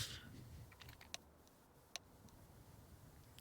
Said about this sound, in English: Oh, I hear typing, but hopefully it's just banter.